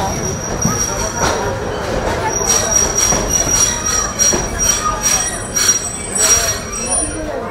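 A train rolls loudly through Santahar Junction, its wheels squealing steadily for several seconds over a constant clatter of rail noise, with someone talking underneath.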